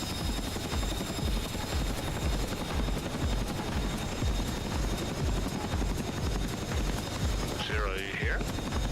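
A Chinook helicopter flown in the combat flight simulator DCS World gives a continuous loud rotor chop and engine drone throughout, with a brief radio-like tonal sweep near the end.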